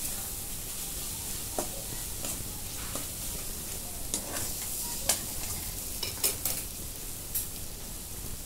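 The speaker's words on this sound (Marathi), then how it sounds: "आपण 1 मिनिट परतून घेते." Spices with a little garam masala sauté in a hot pan for egg bhurji, a steady sizzle broken by a series of sharp clinks and scrapes of a spoon against the metal, close and alone.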